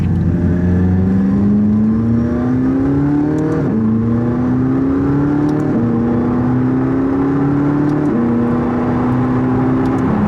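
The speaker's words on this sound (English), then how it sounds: "We're in the car, we've collected it, we're out on the road, driving it for the first time." A McLaren 675LT on its first drive on the road, heard from inside the cabin as a loud, steady engine drone that climbs in pitch through several gears, with a brief dip at each shift.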